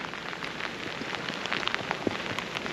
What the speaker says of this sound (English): it's absolutely sloshing it down now